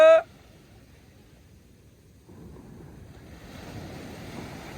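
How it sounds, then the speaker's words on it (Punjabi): Sea waves roll in and break on the shore, building from a faint hiss into a louder, steady surging wash with wind, after a brief voice at the very start. "ਛੱਲ ਵੀ ਆ ਗਈ ਉਧਰੋਂ"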